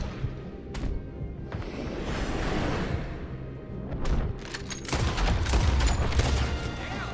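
Gunfire in Red Dead Redemption 2: scattered sharp shots and a rolling volley of reports over a busy, noisy outdoor background, some shots close and some farther off, with short bursts of talk.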